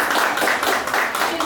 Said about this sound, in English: ladies and gentlemen, give her a round of applause